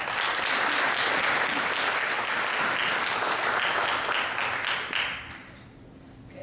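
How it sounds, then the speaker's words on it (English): An audience at a student STEM conference applauds in a dense, sustained round of clapping that tapers off near the end. "So give yourself a round of applause."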